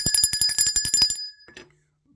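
A small bell in the manner of a bicycle bell rings with a rapid trill of about a dozen bright strikes, then falls silent after a short metallic clatter.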